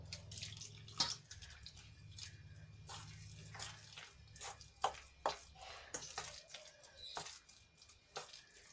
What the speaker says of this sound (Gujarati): તો અહીંયા હું થોડું થોડું પાણી એડ કરીશ